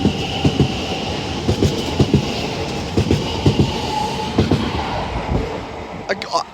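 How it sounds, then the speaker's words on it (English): A London Northwestern Railway Class 730 electric train passes Milton Keynes Central station on the West Coast Main Line, its wheels beating a steady clickety-clack rhythm over rail joints, close and loud, with a faint squeal near the end. "this is the London North Western Railway Class 730"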